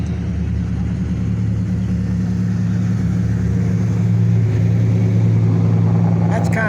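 A Chevy 4x4 truck rumbles past in traffic at the Spring Rod Run in Pigeon Forge, its loud, steady mid-range engine drone continuous and close throughout.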